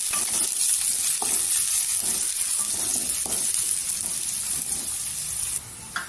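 Chopped onion frying in oil until golden for a drumstick masala curry, a loud continuous hissing sizzle with occasional stirring scrapes.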